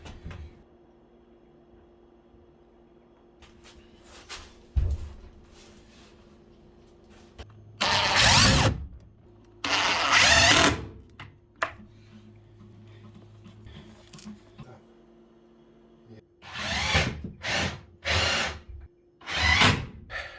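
A power drill driving screws to assemble a cabinet during a dry fit, with four loud whirring bursts of a few seconds each, separated by quieter stretches of faint handling noise.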